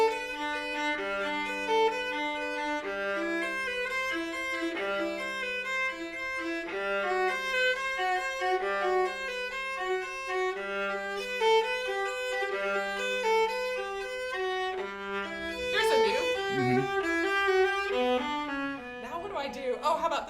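Bowed viola playing a Bach prelude in a free, improvisatory style, a steady stream of sustained notes with a low drone-like register, close and clear, ending in a brief scrape of noise.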